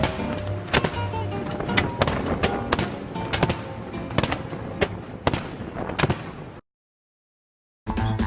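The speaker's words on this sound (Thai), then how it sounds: "แล้วการจุดพลุเนี่ยนะคะสวยมากแล้วก็ดีมากๆเลยค่ะ" Repeated sharp fireworks explosions crackle and boom in an irregular rapid series, then sudden silence before the bangs resume, during a fireworks competition in Malta.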